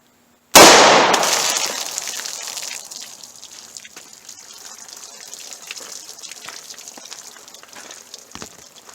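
A single sharp, loud gunshot from a .38 Special snub-nose revolver with a 2-inch barrel firing Buffalo Bore TAC-XP ammunition. The report decays into a long ringing tail with faint scattered clicks afterward.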